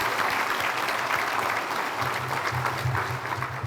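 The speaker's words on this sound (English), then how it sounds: "Can we please have applause for our staff as well?" A crowd at an awards evening applauds the event staff, dense continuous clapping throughout with a low hum or murmur entering partway, filling the room evenly.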